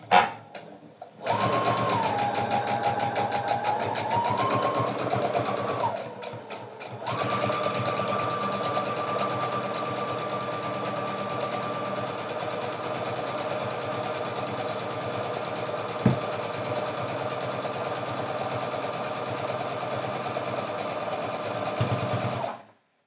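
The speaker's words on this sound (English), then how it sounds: "we're just going to sew one straight seam right across the end" A sewing machine stitches a straight seam across the end of a fabric pillow cover, its steady mechanical whir running loud and continuous, with a brief pause and speed change early on before resuming at an even pace.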